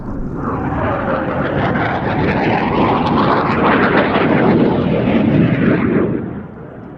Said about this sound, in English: Showing you all the angles of this single-seat Rafale C model.